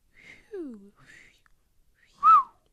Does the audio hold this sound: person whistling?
yes